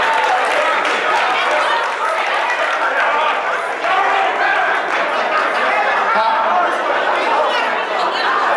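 An audience at a barbershop debate gives loud, sustained applause that blends with crowd chatter and scattered laughter, filling the whole stretch with a dense wash of noise.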